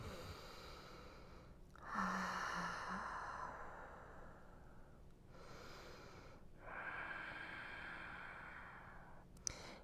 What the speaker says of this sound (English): It might feel good to take some nice exhales out the mouth from this position.